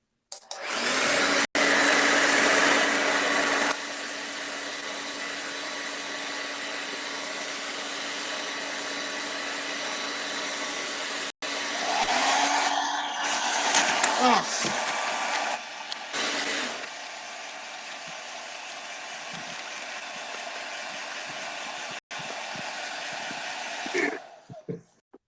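A hair dryer blows with a steady, loud whooshing hum that runs almost continuously, with a few brief clicks and rustles partway through.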